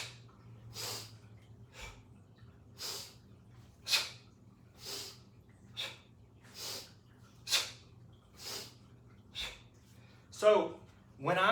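Sharp nasal sniffs of air come during hardstyle kettlebell swings, close and crisp, repeating in a steady rhythm roughly every second, about ten times in a quiet room.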